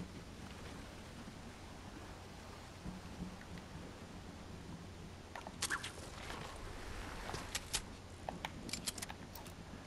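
Faint storm ambience in the Fortnite video game, a low rumbling hiss like distant thunder and steady rain. Sharp, brief clicks and rattles scatter through the second half.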